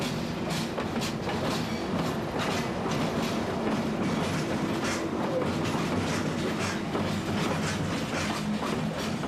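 China Rail 8K class electric locomotive hauling a train, one of the most powerful classes in use in China, heard as steady loud rolling rumble with rhythmic clickety-clack of wheels over rail joints throughout, without speech.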